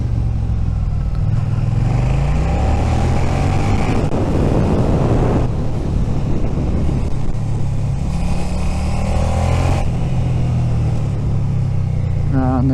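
A Suzuki SV650 motorcycle rides along on new tyres, its engine droning steadily close by under heavy wind rush, with the pitch rising and easing as the throttle changes.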